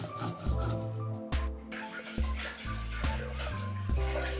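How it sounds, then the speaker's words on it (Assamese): Soaked mustard seeds being ground on a stone with green chili and salt, giving a steady rough rubbing and scraping in repeated strokes, close and fairly loud, with no talking. "দি পেলাই মই এয়া ভালকৈ গুড়ি হোৱালৈকে বটি ল'ম"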